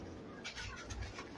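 A medium-sized female Choi Sahib pigeon coos softly, low, rolling calls partly buried in a steady hiss of background noise, with no voices over it.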